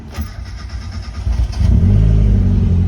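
A manual car in neutral with the clutch in starts on a key turn: a brief rattling crank, then the engine catches and settles into a loud, steady idle close by.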